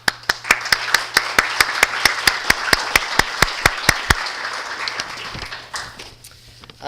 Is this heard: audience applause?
yes